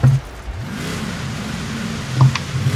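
A car engine in the Forza Horizon 3 racing game revs up and holds a steady mid-pitched drone, with a sharper throttle blip near the end, loud and close with no talk over it.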